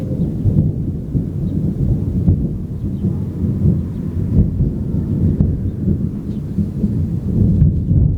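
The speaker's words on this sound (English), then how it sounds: "It's raining, it's thundering" Thunder rolls and rumbles continuously through a steady rain on a moody, stormy day, a loud, low wash of sound with no voices.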